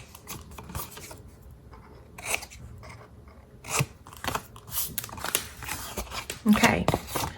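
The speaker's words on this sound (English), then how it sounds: "now we're going to trim the tabs" Scissors trim the tabs of a paper gift box in a run of sharp snips and crisp rustles, close by, with quiet talk in the background.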